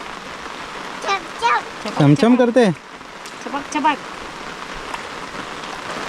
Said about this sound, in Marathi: भाजी काढता काढता आलाय मोठा पाऊस